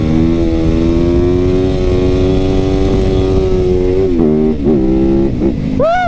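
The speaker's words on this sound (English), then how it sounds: "I just love just hearing that engine while I'm up there." A motorcycle engine revs during a wheelie, holding a loud, close, steady drone before a series of sharp rising revs near the end.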